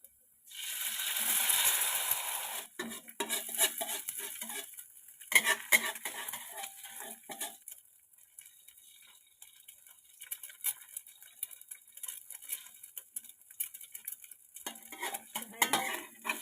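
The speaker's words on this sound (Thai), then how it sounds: "เราจะไม่ตีไข่นะคะ เราจะผัดไข่นะคะ" A utensil scrapes and clatters against a pan while eggs are stir-fried with zucchini, starting with a loud hiss, then giving way to intermittent clinks and stirring taps with quieter gaps between them.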